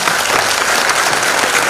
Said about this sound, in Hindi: और इसके लिए एक बार जोरदार तालियां।